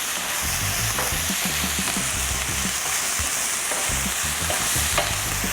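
Chopped jalapeno sautes in a pan with a steady, close sizzle, broken by repeated scraping and stirring strokes of a utensil against the pan, with no voices.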